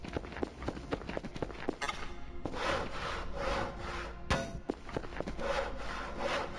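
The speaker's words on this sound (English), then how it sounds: "What else can we saw?" Wood being sawn by hand in the Voices of the Void video game, a steady rasping stroke repeated several times with brief pauses between, close and fairly loud with no speech.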